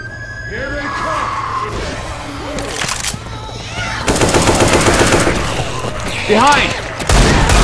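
Rapid automatic gunfire from Left 4 Dead 2 on the Dead Center campaign at Expert difficulty, loud bursts firing almost continuously under shouted voices and game chatter, with heavier volleys in the later seconds.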